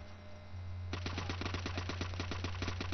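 A PPSh submachine gun firing in Call of Duty 5 on the Roundhouse map, a steady rapid burst of evenly spaced shots from afar over a low engine drone.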